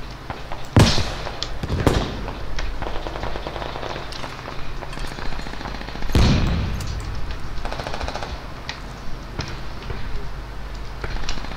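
Gunfire in the tactical shooter game Squad, with bursts of automatic fire and a couple of heavy booming shots over a constant battle rumble, loud and close.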